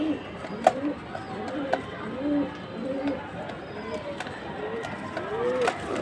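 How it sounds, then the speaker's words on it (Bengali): A male naptha pigeon coos softly in short repeated phrases among faint bird calls, with a person talking over the cooing throughout. "এটা হচ্ছে একটা নাপ্তা কবুতর।"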